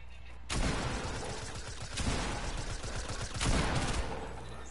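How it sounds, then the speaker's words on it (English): Video game gunfire aimed at the player comes in dense, close bursts that swell three times, loud and continuous. "And they're shooting me."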